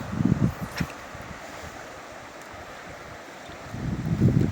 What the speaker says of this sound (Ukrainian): Погода дуже спортилась, вітер сильний,